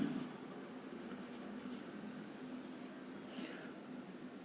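A chemical equation is written by hand, with faint, close scratching pen strokes in short bursts against a quiet room background.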